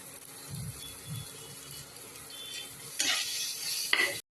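Spices fry in oil for a raw mango and fish roe chutney, a soft sizzle with stirring scrapes that grows louder and brighter toward the end, close and fairly quiet.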